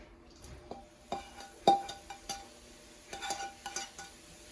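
Shrimp being stirred in a pan for a low-sodium shrimp and broccoli fried rice, heard as scattered light scrapes and utensil clinks against the pan over a faint background, close and fairly quiet, no talking.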